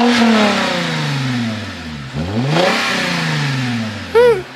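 A custom 2016 Toyota Mark X GS with a Rowen body kit and air suspension revs up close and loud, its engine note climbing and falling through two sweeps before a sharp blip near the end.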